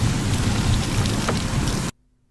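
Rain falls indoors as a comedy sketch sound effect: a loud, dense, steady hiss of drops with a few faint rumbles, which cuts off abruptly into silence near the end.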